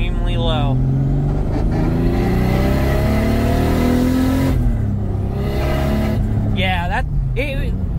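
A Nissan Pulsar fitted with a turbocharged 3-liter 2JZ-GTE and a 6262 G35-900 turbo revs hard, the engine note climbing and falling in loud sweeps, with brief talk at the start and near the end.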